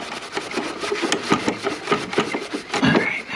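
Rust is scrubbed off the hex shaft of an MTD snow blower in quick, close, rasping back-and-forth strokes, steady and fairly loud with no talking.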